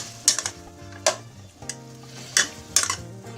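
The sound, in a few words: finely chopped garlic cooking in a pan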